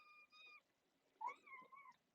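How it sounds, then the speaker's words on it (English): A pet cat meows several times indoors, two drawn-out harmonic calls followed by a sharper rising cry and a longer wavering meow, close and fairly quiet, with no talking over it. "She's so naughty, that cat."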